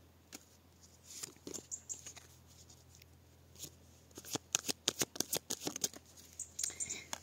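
Tarot cards being shuffled and drawn at close range, with quiet irregular flicks and riffling snaps that grow denser and louder toward the end over a faint steady hum.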